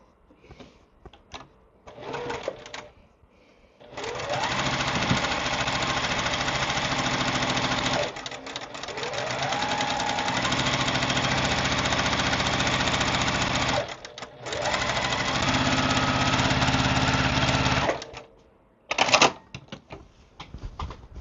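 Sewing machine stitching fabric for a quilt block, running in steady loud bursts of several seconds each with brief pauses and small handling sounds between runs.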